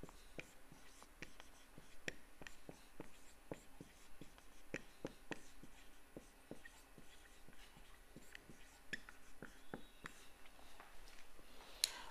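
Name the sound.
writing an equation during a lecture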